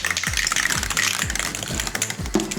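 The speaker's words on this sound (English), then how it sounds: "Take out the cans, give them a really good shake, and just place them on the table." Spray cans shaken hard in quick bursts, the mixing balls inside rattling and clacking in a repeated rhythm, close and fairly loud with no talking.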